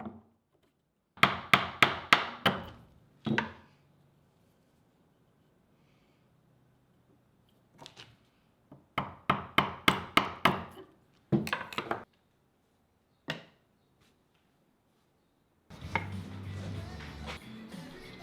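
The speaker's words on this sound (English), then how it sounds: "chiseling out at this angle." Wood chiseled with chisel and mallet at an angle for a bridle joint on a wooden stool: bursts of sharp, rhythmic knocks, four to six strikes each, separated by quiet pauses, close and alone, with a scraping rustle at the end.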